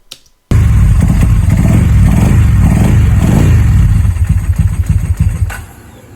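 A loud Ducati 748 motorcycle engine close up, misfiring as it revs roughly with uneven, sputtering pulses, then dropping off toward a lower idle at the end.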